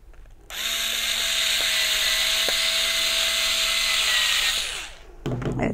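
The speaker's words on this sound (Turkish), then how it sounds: "Evet, şurada da bir vida takacağım ve işlemimi sonlandıracağım." A Phillips screwdriver drives a screw into a bag handle, making one steady, loud motor whine that lasts about four and a half seconds before winding down.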